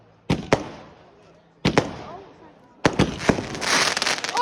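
Small consumer fireworks go off nearby, sharp loud cracks in quick pairs, then a denser burst of pops and crackling near the end, with people's voices mixed in.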